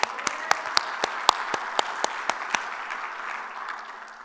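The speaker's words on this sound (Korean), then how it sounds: "하나님께 영광의 박수" A church congregation claps during a Korean worship service: sharp, evenly spaced claps about four per second ring out over a wash of crowd applause, then the sharp claps stop and the applause slowly fades.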